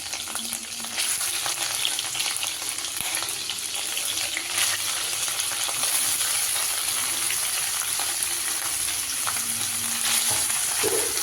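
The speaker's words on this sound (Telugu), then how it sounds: "ఇప్పుడు నెయ్యి వేడైందండి. పన్నీర్ ముక్కలు వేసుకోవాలి." Pieces of paneer fry in hot ghee for a paneer curry, giving a loud, dense, continuous sizzle that stays steady throughout, with faint stirring and no talking.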